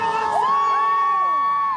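Crowd at an outdoor BMX bicycle stunt show cheering and whooping, a loud, steady wall of mixed voices with high-pitched shouts rising over it and no break for about two seconds.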